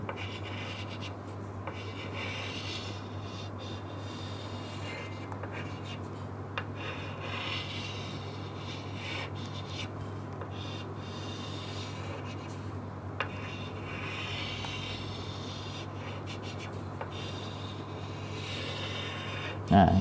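Pen writing a Thai yantra on paper, a soft continuous scratching and rubbing of the nib at close range, faint over a steady background hum, with someone talking intermittently.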